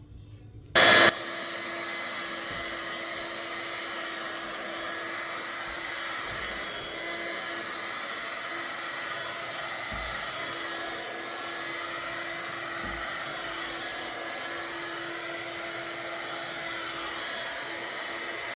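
A vacuum cleaner runs steadily while a room is cleaned, a loud continuous whine with a low hum that starts abruptly after a brief burst and holds unchanged for many seconds, with no talk over it.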